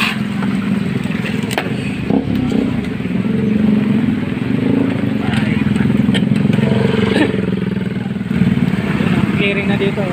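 A motorcycle engine runs on a flooded street during a typhoon, its low steady drone close by with clattering knocks and splashy noise, while people talk over it.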